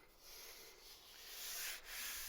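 Sandpaper rubs steadily across the painted steel of a Suzuki SJ410 driver's door, a continuous close scratchy hiss that swells briefly near the end, with no talking.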